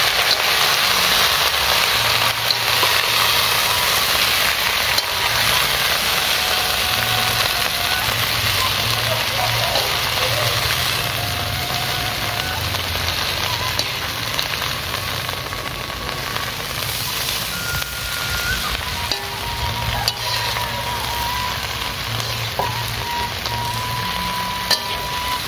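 Water spinach (kangkung) stir-frying in a pan makes a loud, continuous sizzle and crackle for the whole stretch, easing slightly partway through, with a voice speaking intermittently over it.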